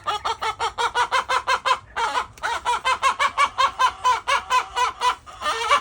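A hen clucks and chatters in quick, rhythmic bursts near the microphone, a steady run of sharp, repeated calls with one brief pause, heard alone with no talk.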